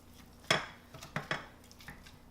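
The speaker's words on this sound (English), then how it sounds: "I'm just going to mash them with this potato masher" A potato masher works boiled Yukon Gold potatoes in a pot, giving a few sharp knocks and clanks spaced irregularly across a couple of seconds, close by over a quiet background.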